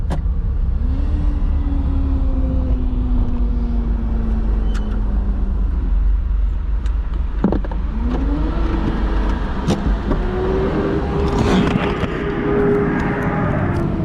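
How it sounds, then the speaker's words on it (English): Cars at a Chevron gas station, engines idling and revving with rising tones as vehicles pull away and pass nearby, several overlapping motor sweeps over a constant low rumble with scattered clunks, no voices. "Now here we are at the Chevron gas station."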